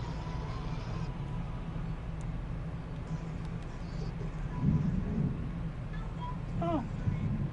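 Rumbling thunder and rain from a storm in the video game God of War, a low sustained roll under steady patter, with a voice speaking over it at moments.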